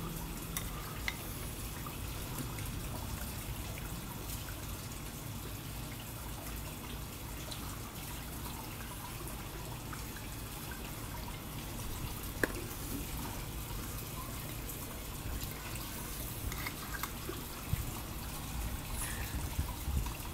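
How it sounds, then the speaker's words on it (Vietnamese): Boiling water poured into a blue Vietnamese phin filter over Son La specialty Arabica coffee, a steady soft trickle and splash running the whole time with no voices. "xin phép chế nước sôi lần 2"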